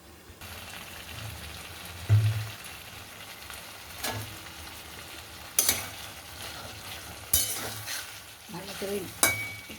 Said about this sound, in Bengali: ভালো করে একটু নেড়ে দিচ্ছি বন্ধুরা।